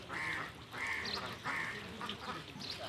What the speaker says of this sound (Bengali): সব হাঁসেরা ভিড় জমায় এখানে